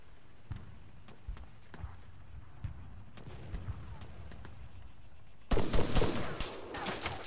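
Gunfire in the military game Arma 3: scattered sharp single shots through the first half, then a denser, louder burst of firing near the end, with speech in the clip.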